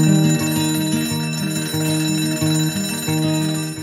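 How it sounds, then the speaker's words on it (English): An alarm bell rings continuously and loudly for the whole stretch, a steady metallic clanging with slight pulses in its rhythm, heard alone with no voices. "coming awake to an alarm bell with a sudden start"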